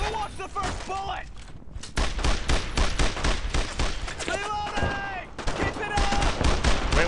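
Dense battlefield gunfire in the World War II shooter Brothers in Arms, with rapid rifle and machine-gun bursts and thudding shots packed close together, loud and continuous, with a voice talking over part of it.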